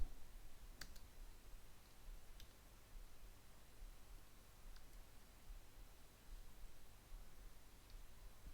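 A computer mouse gives a few sparse, faint clicks at irregular intervals over a quiet, hissy background, with no talking.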